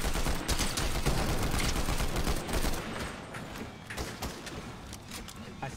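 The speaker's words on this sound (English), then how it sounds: "I sniped the guy next to us." Dense rapid gunfire in an online shooter game rattles loudly throughout, with sniper rifle shots among overlapping bursts and a busy mechanical clatter, easing slightly toward the end.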